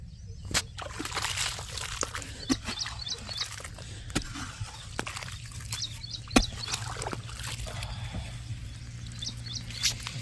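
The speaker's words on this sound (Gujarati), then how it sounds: "પાણી હવે જાય છે બીજા ચાળામાં" Water flowing through an opened earthen dam into an irrigation channel on a farm, a soft continuous slosh and trickle at moderate distance with sharp intermittent knocks and faint background voices.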